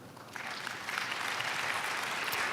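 Applause swells in after a brief quiet start, a steady wash of many hands clapping, moderately distant.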